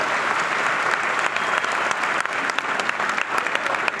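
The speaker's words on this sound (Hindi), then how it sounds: "उनके लिए तालियां बजा दीजिए," A seated crowd at a Modicare seminar event in Jaipur claps steadily, a dense, sustained roar of applause with no speech over it.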